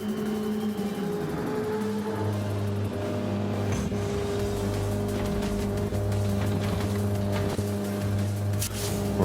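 A race car engine in Gran Turismo 7 on the High Speed Ring during a long endurance race, droning loudly and steadily throughout as it pulls away after refuelling, with the pitch rising.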